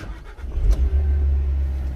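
A JAC Sunray minibus engine runs close by, a steady low rumbling hum that swells briefly as if lightly revved, then settles into an even idle with no speech.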